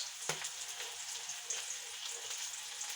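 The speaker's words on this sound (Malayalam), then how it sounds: "ഇനി ഒരു കോഴിമുട്ട പൊരിക്കുക." A chicken egg fries in a pan, a soft, steady sizzle with scattered faint crackles and one brief clink, quiet and close, heard without talk.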